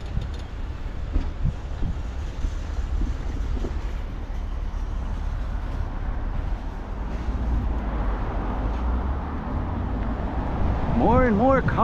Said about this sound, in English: More and more cars never stop.